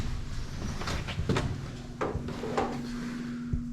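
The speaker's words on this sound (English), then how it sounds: "So I think this is like an actual vault. This is like heavy door." A heavy metal vault door in a gold museum's storage room is handled, giving several dull knocks and clunks against a steady mechanical hum, with no talking over them.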